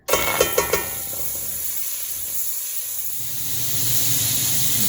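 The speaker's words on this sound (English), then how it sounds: "Once your pan is warm, go ahead and add some butter." Butter sizzles in a warm pan, a steady broad hiss that follows a few quick clicks at the start and builds slightly toward the end, up close with no one talking.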